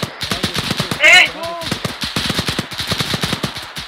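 Rapid automatic gunfire in the ARMA 3 military video game, a dense rattle of sharp shots in quick bursts, with a person shouting briefly over the shooting.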